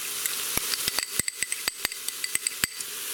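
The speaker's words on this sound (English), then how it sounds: "Again, you hear that great sizzle." Minced garlic sizzling in a hot pressure cooker pot, a steady close hiss broken by a series of sharp clicks and taps of a utensil against the metal.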